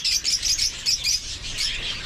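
Young chicks chirp loudly and close, a rapid run of high peeping calls in quick bursts with no talk over them.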